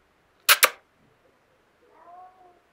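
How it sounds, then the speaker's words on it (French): Pet cat Hux gives a drawn-out, close meow near the end, preceded by two sharp, loud clicks and otherwise quiet surroundings. "quand il miaule comme ça, c'est qu'il a un problème"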